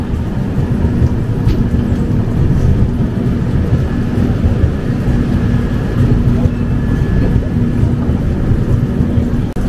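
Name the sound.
train entering Malda station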